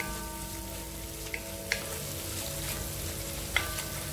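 Coriander leaves sautéing in a pan for kuska rice: a soft, steady sizzle of frying with a few small, sharp pops scattered through it and no talking.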